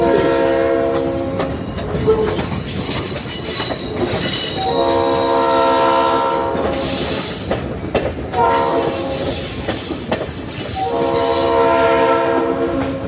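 A passenger train rumbles steadily along the rails with rhythmic clacking, interrupted by two long, loud horn blasts that sound close by.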